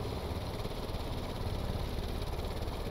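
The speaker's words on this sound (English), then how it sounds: "And we're up, full throttle." A propeller plane's engine at full throttle in a flight video game, a steady continuous drone with even vibration, no voices.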